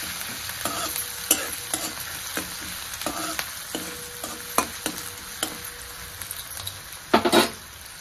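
Onion frying in a pan with green chilli for a dry drumstick vegetable dish. A steady close sizzle is broken by repeated sharp spatula scrapes and taps, and a louder clatter comes near the end.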